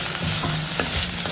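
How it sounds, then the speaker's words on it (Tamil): Vegetables and cubed paneer being stirred in a frying pan for a weight-loss salad, with a steady sizzle and a few scraping strokes of the spoon across the pan, close and fairly loud. "லைட்டாக ஒரு கிண்டு கிண்டிக்கிடுவோம்."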